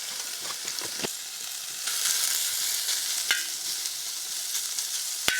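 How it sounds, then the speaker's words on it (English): Bacon fries in melted lard on a plow disk at a rainy campsite, producing a steady close sizzle with occasional sharp pops and utensil clicks. No voices are heard. "All right, in with the bacon."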